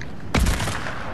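Gunfire in the video game Fortnite: a sudden loud burst of shots that rings out briefly and then fades, with no talking over it.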